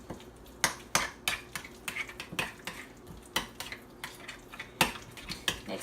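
Salt is mixed into flatbread ingredients in a bowl with a utensil, giving a steady series of close, sharp clinks and scrapes against the bowl at an even stirring rhythm, no speech.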